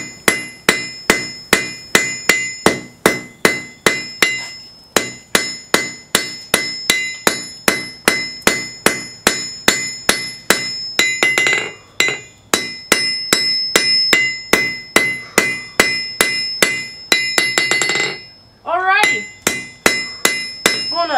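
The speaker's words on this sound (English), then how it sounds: "we're going to pull over and do the forge weld next" Hammer blows forge-weld a hot steel fire poker, landing as a fast, regular run of loud ringing strikes close by. Brief pauses break the rhythm, and a hiss and rasp fill some gaps.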